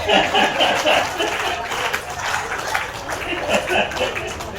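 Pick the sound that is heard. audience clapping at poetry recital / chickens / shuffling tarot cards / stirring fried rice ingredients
audience clapping at poetry recital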